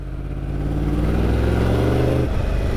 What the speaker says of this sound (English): I'm in second, pulling away in second.